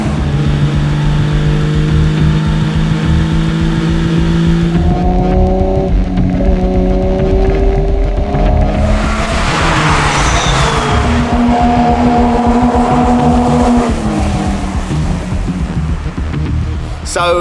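An old Holden HQ ex-race car roars through a 24 Hours of LeMons event at Hampton Downs, its engine loud and close, revving and shifting through rising and falling tones as it accelerates past with wind rush.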